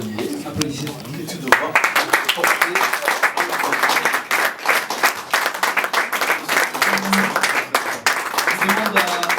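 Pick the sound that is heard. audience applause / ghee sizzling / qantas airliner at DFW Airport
audience applause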